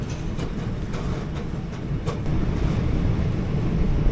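17235 Nagercoil Express rolling slowly along the track on the Bengaluru to Thiruvananthapuram route, a steady low rumble with faint rhythmic clicks, building slightly louder toward the end with no talk.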